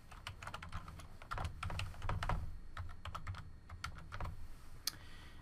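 Quick, steady keystrokes on a computer keyboard as an email address is entered for online registration, a close, dry clatter of separate taps with brief pauses, no voices.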